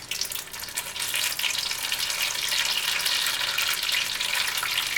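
A peach pie frying in hot grease, a loud, steady, close crackling sizzle that fills the whole stretch without letup.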